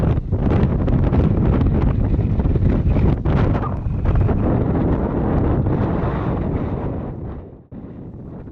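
Strong wind blows at a paragliding launch site. Loud, constant rumbling gusts buffet the microphone for about seven seconds, then ease off near the end.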